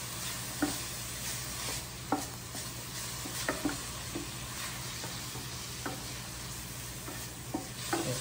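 Garlic sautéing in a pan for stuffed green peppers, a steady loud sizzle running throughout, broken by occasional light scrapes and taps of a stirring utensil, close up with no talking.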